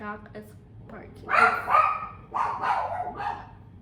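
A pet dog barks a few times in an indoor evening setting, with the yips and barks fairly loud and close, mixed among a person's talking.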